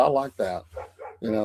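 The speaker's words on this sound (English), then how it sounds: "They're barking at him out there. It's not our dog, it's neighbor dog." Neighbor's dogs bark outside at a distance, a few scattered barks mixed under close conversation from people indoors.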